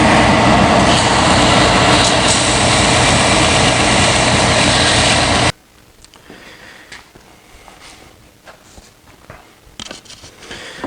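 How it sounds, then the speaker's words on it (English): A power sander flattens a rough wood cut for a pet access ramp, roaring loud and steady up close for about five seconds before cutting off abruptly, leaving faint shop rustles and light knocks. "what I'll do to flatten it out is I'll just put it on my sander here."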